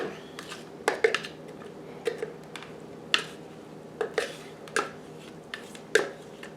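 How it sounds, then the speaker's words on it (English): A manual food chopper dices cucumbers for dill pickle relish, giving sharp irregular clacks and knocks, some doubled, spaced through a quiet kitchen with no voices. "I'm just going to keep on chopping the rest of the cucumbers that go in my dill pickles."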